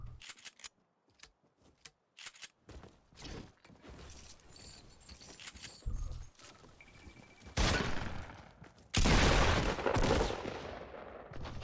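Gunfire in a Fortnite match, with bursts of sharp shots and rapid volleys that grow louder and denser toward the end, mixed with scattered in-game clatter and no talk.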